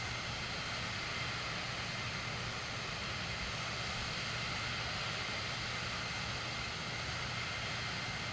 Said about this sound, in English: I just want an A400 Atlas to go low level in the Mach loop.